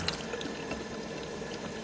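Hot water runs steadily from a bathroom tap, a constant close hiss and splash that fills the whole moment without pause.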